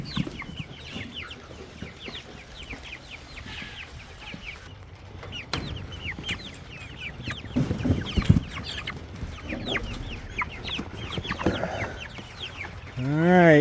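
Broiler chickens clucking and chirping inside a box while being moved to pasture, a steady close chorus of overlapping calls with a few louder squawks near the end.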